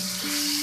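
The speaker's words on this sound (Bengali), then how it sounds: "এখন এটাকে নেড়ে চেড়ে প্রায় 3-4 মিনিটের মতো ভেজে নিব।" Chicken and vegetables fry in oil for vegetable chicken noodles, a dense, loud, continuous sizzle heard up close in a brief burst.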